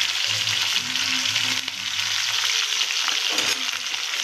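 Two large onions and curry leaves frying in hot oil, a loud, continuous close sizzle with stirring scrapes and a low hum underneath.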